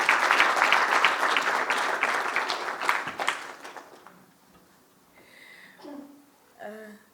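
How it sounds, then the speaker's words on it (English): Audience at a workshop opening session claps loudly for several seconds, the applause fading out, followed by a voice talking briefly. "let's give them a big hand of applause"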